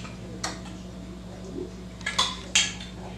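A spoon stirs a sweet potato mixture with vanilla extract in a bowl, giving a few sparse clinks and scrapes against the dish, with quiet gaps between them.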